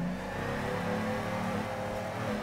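A Galaxy S14 drift car in the Torque Drift game revs hard and accelerates, its engine droning steadily and loudly throughout with no voices over it.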